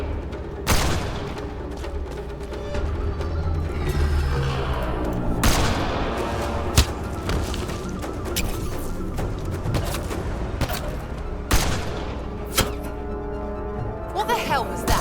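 Gunfire crackles through a firefight in Mass Effect: Andromeda, with scattered sharp shots and heavier blasts over a constant rumble of combat, while voices talk throughout.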